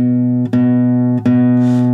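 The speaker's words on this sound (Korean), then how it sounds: "이런 소리를 약간 맥놀이 현상이라 그러는데 약간 좀 이렇게 우는 듯한 느낌이 좀 있잖아요" Sustained guitar tone with a wavering, beating quality caused by a capo clamped too tightly, ringing steadily and loud with two brief dips where the note is restruck.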